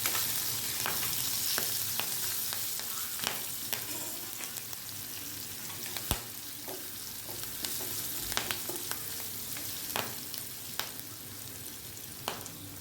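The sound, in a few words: stirring green chillies and curry leaves frying in a pan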